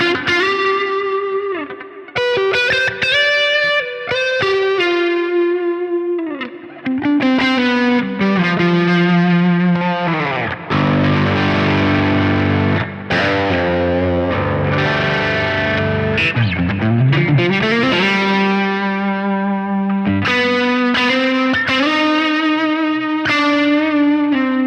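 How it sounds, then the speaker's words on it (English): An electric guitar on the neck pickup plays through the Neural DSP Archetype Rabea plugin, with crunch and lead amps blended for a crisp, warm, distorted tone. Fluid lead lines, bends and chords continue loud and unbroken, with no talking. "I've blended the crunch amp with the lead or heavy cap, and it sounds just super, super crisp and warm, especially on neck pickup"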